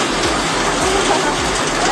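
Heavy rain pours down in Siliguri during an evening walk, a dense, steady hiss of water filling the whole short stretch with no break.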